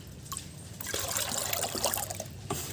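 Water trickles and pours into a container as a small measure of liquid plant fertilizer is diluted for watering garden plants, a steady close splashing flow lasting a few seconds with no talk.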